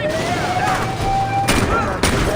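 Gunfire in the video game Saints Row: True Colors, a dense burst of shots over a crackling battle bed, with two louder blasts near the end and voices in the background.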